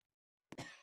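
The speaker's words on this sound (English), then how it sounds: "I hear coughing." A cough from a character in a Roblox natural disaster survival game, played in VR, bursts in abruptly after half a second of near silence. It is a single short, close, fairly loud cough with nothing else around it.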